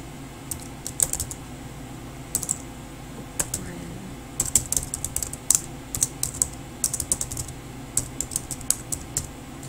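Someone types an email address on a computer keyboard in irregular bursts of sharp, close clicks separated by short pauses, with a low background hum.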